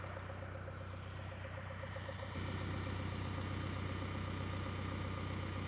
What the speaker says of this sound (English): you can hear the truck is running.